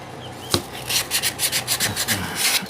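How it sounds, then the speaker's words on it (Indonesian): Sandpaper rubs against a Cosmos dynamo part in quick, close, rhythmic scraping strokes, about a dozen in a row after a single sharp knock. "Ya, kita amplas terus."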